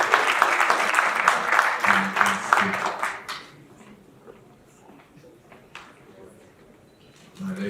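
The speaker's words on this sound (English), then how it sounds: "Round of applause, people." Audience applause at an international engineering students conference: a dense burst of clapping for about three seconds that dies away, followed by a quieter room with a voice speaking.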